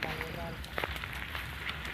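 A wood fire has burned down to glowing embers and still burns strongly outdoors at night, giving a steady hiss with scattered small crackles and pops. A voice talks over it.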